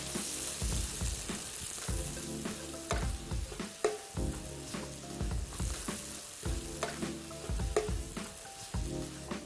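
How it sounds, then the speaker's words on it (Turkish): Chopped onions, chard leaves and parsley fry in a pan, a steady close sizzle with repeated scraping stirs at a regular pace, fairly quiet and with no voices. "Soğanlarım kavruldu. Kalan pazı yaprağım ve maydanozu ilave ediyorum."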